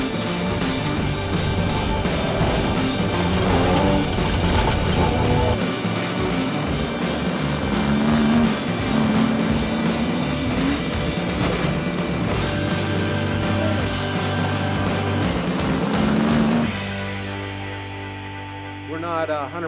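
A rally car driving hard on a forest stage during a run to Taupo, its engine a loud, continuous rasping drone with shifting revs and rattles, heard close before fading at the end.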